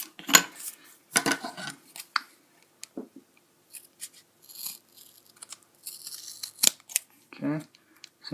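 Scissors cutting cardboard for a homemade Dilophosaurus model, a series of short, sharp snips and crinkles spaced unevenly, close and fairly crisp, with quiet gaps between cuts.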